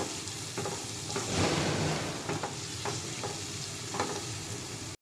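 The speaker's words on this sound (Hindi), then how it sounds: "और इसको हम अच्छी तरह से फ्राई करेंगे और सॉफ्ट होने तक हम इसे फ्राई करेंगे।" Onions and green chillies fry in a pan until soft for aloo shimla mirch, a dense close sizzle with light scraping strokes from stirring, no one speaking.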